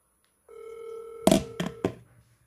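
An outgoing phone call rings with a steady tone for under a second, followed by three quick clicks or knocks, heard close and alone.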